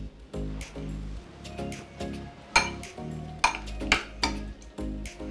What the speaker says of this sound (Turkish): Yoğurdum homojen bir kıvama gelene kadar çırpıyorum.